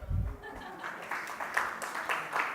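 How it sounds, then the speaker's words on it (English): Audience applause at the opening of a mental health survey report launch event, a soft, steady patter of many hands heard from a distance, continuing for a couple of seconds. "Round of applause for making it on time"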